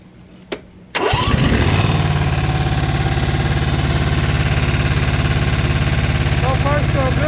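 Zero-turn mower engine, just repaired with a new oil pan gasket, cranks and catches after a short click, then runs steady and loud with a continuous close throb through to the end.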